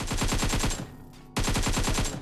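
Rapid automatic gunfire in a mobile battle royale game on a Redmi Note 8 Pro, a loud close burst, a brief gap, then another sustained volley.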